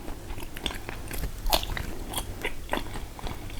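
Someone chews meat in close-up, crisp bites and wet crunches repeating in an uneven rhythm, loud and intimate with no talking.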